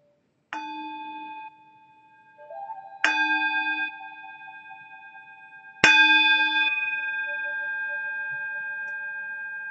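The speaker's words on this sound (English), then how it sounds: "we're not striking the bell or hitting the bell, but we are inviting the bell." A mindfulness bell is rung three times at slow, even intervals, each clear metallic strike ringing out and decaying slowly in a quiet room, the last stroke loudest and longest.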